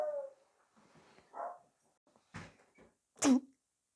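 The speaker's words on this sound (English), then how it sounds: "you could hear the dog barking" A dog barks a few times somewhere in a home during a nail-painting session, short separate yaps spaced over a few seconds at moderate loudness, with no talking.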